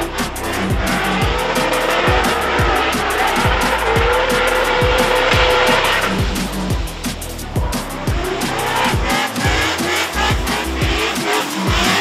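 Race car drifting on a mountain road, tires squealing continuously over a loud engine, with rapid rhythmic pulses from the motor and a brief shift in tone midway.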